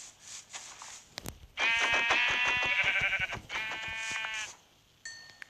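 Sheep in the video game Minecraft bleat in a string of loud, close, wavering calls, with two sheep present. A short electronic tone follows at the end, and no one speaks.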